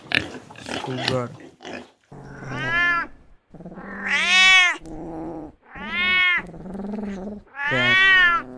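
Several drawn-out cat meows, close and clear, rising and falling in pitch, follow a brief spoken word at the start in a children's animal-sounds lesson.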